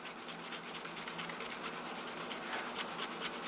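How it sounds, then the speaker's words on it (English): Sandpaper rubbing back and forth over the solenoid plunger of a 1930s NuTone chime, a steady, close scratchy rasping with a rapid even rhythm and no talk. "What will happen with the sandpaper is eventually it gets all gummed up with stuff from the sanding."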